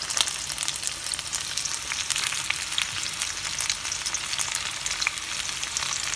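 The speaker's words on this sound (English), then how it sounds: "Now I am adding onion petals, capsicum petals," Onion petals, capsicum petals and garlic fry for chicken 65, a loud, steady, close crackling sizzle that never lets up.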